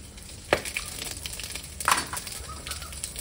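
Dried red chillies and cumin seeds sizzle in hot oil in a home kitchen pan, a continuous crackling fry with two sharp bursts of spluttering as they hit the oil, close and clear.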